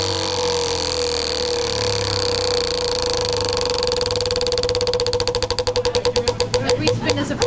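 A prize wheel spun at an anniversary agent drawing: a steady whirring hum with rapid clicks that slow into distinct ticks as the wheel winds down, loud and close.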